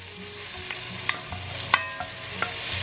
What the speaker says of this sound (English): Bacon has rendered down, so in we go with the veggies. The first thing, one finely diced red onion